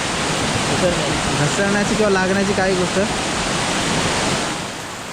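Rushing water of Chinchoti waterfall pours as a steady, loud broadband roar over slippery rock, with a person talking briefly over it partway through.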